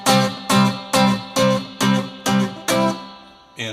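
A C barre chord on an acoustic guitar is strummed seven times in an even rhythm, each strum damped quickly so it doesn't ring, with a final lighter strum at the end.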